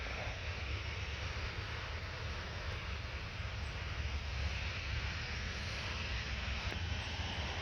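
An Air France Airbus A320 taking off at Paris Orly airport gives a loud, steady jet engine roar that holds without a break throughout.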